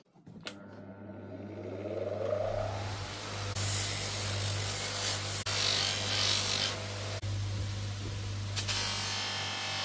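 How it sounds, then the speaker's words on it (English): An electric polisher buffs tarnished copper, fitted with different coloured polishing soaps on each side, giving a steady whirring motor drone with a brief spin-up at the start and scraping, hissing contact noise that swells and fades. "We apply different colour soaps to the different sides of the polisher."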